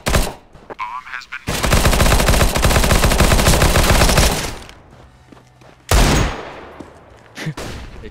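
Automatic gunfire in a Counter-Strike: Global Offensive competitive match, a loud sustained burst of rapid shots lasting about three seconds, followed by quieter rattling and a second short sharp burst with a few trailing shots.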